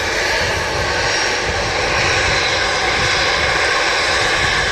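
Continuous loud roar of an EasyJet jet airliner at Manchester Airport, its engine tone steady and close, with no voices.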